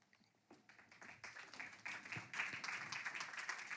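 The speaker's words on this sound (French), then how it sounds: "Vous pouvez d'ores et déjà les applaudir s'il vous plaît." An audience applauds as panel speakers walk on stage, starting with a few scattered claps that quickly build into steady, fairly quiet applause.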